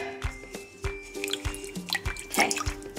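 Water draining from a pot of rice while cooking, with irregular drips, small splashes and squishy liquid sounds at close range.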